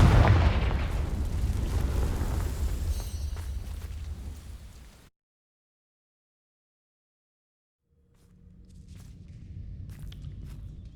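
In Hogwarts Legacy, a Confringo fire spell bursts with a loud rumbling blast that decays over several seconds, then drops to silence before low ambient noise returns.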